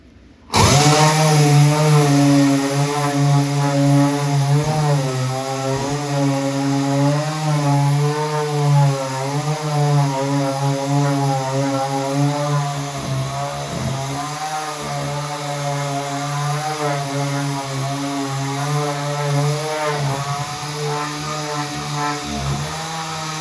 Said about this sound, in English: I've just put on a new piece of 180 grit sandpaper, and let's knock this down real quick.